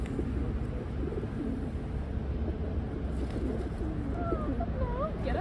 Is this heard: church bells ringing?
no